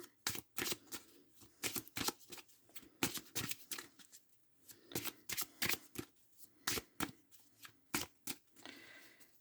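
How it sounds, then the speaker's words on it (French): Tarot cards shuffled and drawn by hand, with rapid bursts of crisp riffling and flicking in irregular rhythm, close and fairly quiet, with short pauses between shuffles. "je garde cette carte, je vais tirer 3 cartes"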